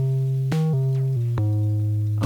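A bass voice from a Surface Eurorack module plays a short sequence of sustained low notes, each stepping to a new pitch with a plucked attack, clear and close without talk.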